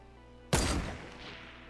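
A single sniper shot in the video game Fortnite, a sharp loud crack that cuts through a quiet background and rings out into a fading tail.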